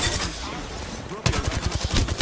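Rapid gunfire from a weapon in the video game Apex Legends, a dense burst of repeated shots that becomes sharper and more rhythmic in the second half, with game noise underneath.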